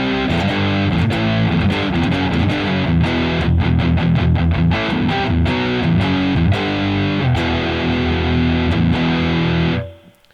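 An electric guitar played through a Musiclily Pro true-bypass distortion pedal with the gain turned up, giving a thick, saturated classic distortion tone as chords and riffs ring out loud and continuous before cutting off abruptly at the end.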